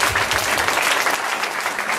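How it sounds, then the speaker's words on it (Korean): A church congregation at a youth revival gathering claps to welcome and encourage the teachers, a dense, steady wash of many hands filling the room at full level for the whole stretch. "먼저 이분들을 우리가 박수로 환영하고 격려하도록 하겠습니다"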